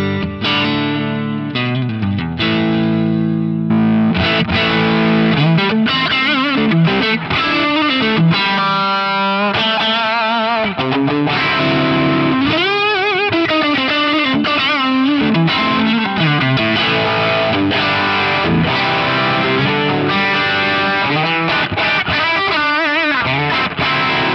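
An electric guitar played through a modeled overdrive pedal on an FM3 modeler at edge-of-breakup gain rings out with loud, distorted chords and singing lead bends, continuous and alone with no speech.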